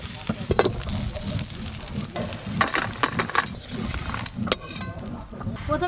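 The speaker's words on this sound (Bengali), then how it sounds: "কাঁকড়াগুলো সুন্দর লাল লাল করে ভাজা হয়ে গেছে, এবার ঢেলে নেব।" Small crabs fried red in oil and ghee are tipped and scraped out of a hot frying pan, with continuous sizzling, clattering spatula strokes and metallic scrapes close by.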